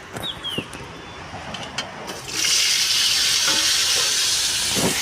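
Pointed gourd (potol) goes into hot oil after faint clinks, bursting into a loud, broad sizzle that holds steady to the end.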